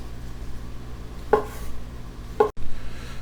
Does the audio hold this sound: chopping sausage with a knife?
yes